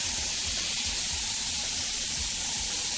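Steady, continuous hiss of an airbrush spraying, broad and airy with no pauses or voices.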